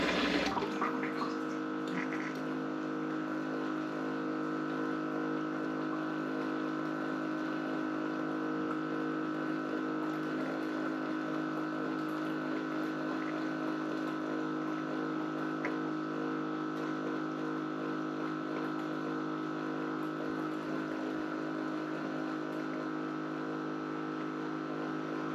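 A Capsule countertop dishwasher runs its fruit washing cycle, giving a steady, continuous hum and water churning with a constant low mechanical drone, nearby and unchanging throughout.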